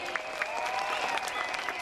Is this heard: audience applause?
yes